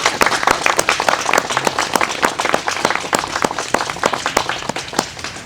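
A small gathering applauds during a Mass for the sick in a retirement home in Domžale: steady, fairly close clapping with distinct individual claps throughout.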